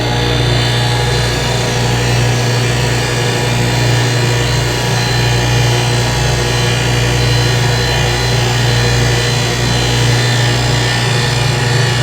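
A power tool grinds slowly and steadily with a constant loud motor hum and a rough rubbing texture on top, close and unbroken throughout with no talking.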